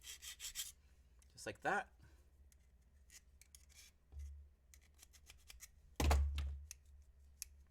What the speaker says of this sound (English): They work perfectly for stripping small cables.